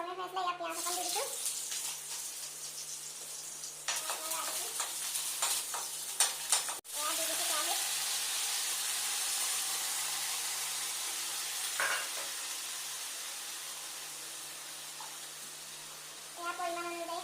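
Chopped onion frying in hot oil in a heated kadai gives a steady sizzle throughout, with a few scraping stir sounds at the start and near the end.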